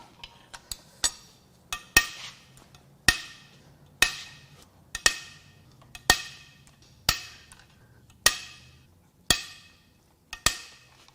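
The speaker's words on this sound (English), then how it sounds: "Let's crack these bolts loose" Wrench clicking and cracking loose 12-point bolts on a Subaru FA20DIT engine, with about a dozen sharp metallic snaps at a fairly steady rhythm, each ringing briefly before the next, close and clear with no talking.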